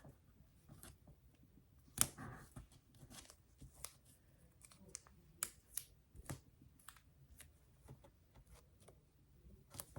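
Masking tape is pulled and torn in several short bursts, giving sharp, faint rips and crackles separated by pauses in a quiet room, with one louder tear near the start.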